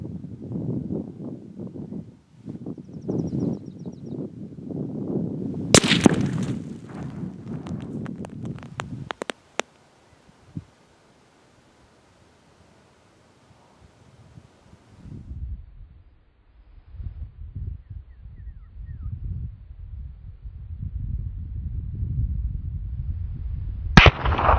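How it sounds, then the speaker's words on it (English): A .22-250 rifle firing 50-grain Hornady V-Max Varmint Express rounds at a 25-pound clay block 200 yards away, with a sharp crack near the middle followed by a short silence, then muffled handling noise before a final sharp transient. "We'll be shooting at this 25-pound block of clay from a distance of 200 yards with a 22-250 using a 50-grain VMAX Hornady Varmint Express."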